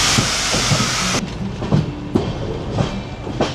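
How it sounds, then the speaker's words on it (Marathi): A Konkan Railway passenger train runs between Panvel and Ratnagiri in monsoon weather, heard from inside as a loud steady roar with rhythmic clickety-clack of wheels over rail joints and a sudden drop in hiss partway through. "4ला 5 मिनटं असताना ही ट्रेन पोचली"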